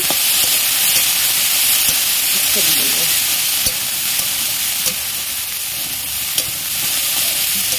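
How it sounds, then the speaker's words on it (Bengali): Green peas with green chillies being stirred in a hot pan for motorshuti vorta, a steady frying sizzle under scraping spoon strokes and a few sharp clinks, continuous and close. "এবার আমি এর মধ্যে কাঁচা লঙ্কাগুলো দিয়ে দেবো, দিয়ে ভালো করে নাড়িয়ে চাড়িয়ে নেব"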